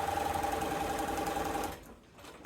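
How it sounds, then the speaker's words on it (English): A sewing machine stitches binding onto the front of a quilt with a fast, steady mechanical whir that runs for most of the moment, then stops, leaving quiet room noise. "And I'm stitching mine on the top of my quilt, on the front side, because I'm gonna hand stitch it on the back."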